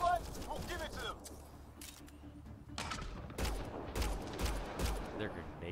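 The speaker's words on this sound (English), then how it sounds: "They're grenades." Grenade blasts and gunfire in the sci-fi shooter Mass Effect Andromeda: sharp, loud explosive bursts land in quick succession during the second half, over a busy combat din with voices in the background.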